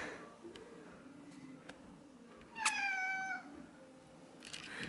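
A barn cat on a snowy day lets out a single clear meow of about half a second, close and distinct, set against quiet background rustling.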